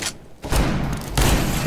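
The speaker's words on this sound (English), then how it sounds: "The grenade." Grenade blast in a shooter video game, two heavy booming bursts in quick succession, loud and close with a rumbling low end, following a brief quieter moment.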